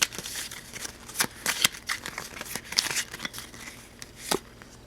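Loot cards for the Shadows of Brimstone board game are shuffled by hand close up, giving a series of quick riffling and snapping bursts with short pauses between them, and no voices.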